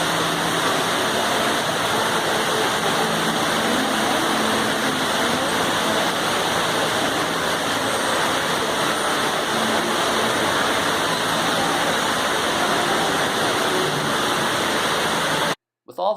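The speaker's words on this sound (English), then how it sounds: "along this beautiful waterfall." Indoor waterfall art piece in the Dubai Mall, a continuous loud rushing wash of falling water filling the space, steady throughout with a brief cut at the end.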